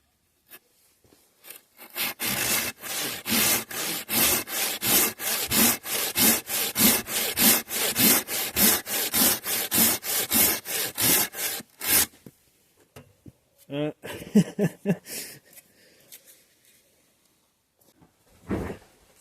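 A hand saw whose teeth are set alternately, one right and one left, cuts through wood in a fast, steady run of close rasping strokes for about ten seconds, then stops, followed by a few faint handling sounds.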